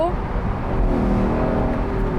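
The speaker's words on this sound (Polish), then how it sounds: "ciągle jest to wolno ssąca jednostka pięciolitrowa i to się słyszy" Lexus LC500 with a naturally aspirated five-litre engine, a steady deep engine drone holding through the whole stretch at moderate loudness, with a faint voice underneath.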